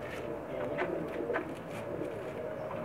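Pakistani pigeons cooing on a rooftop loft, a few soft low coos over a faint background hum, fairly distant and quiet.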